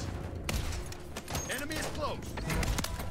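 Gunfire from a Modern Warfare 3 match punching through a wall, heard as a rapid burst of sharp shots in quick succession under spoken commentary.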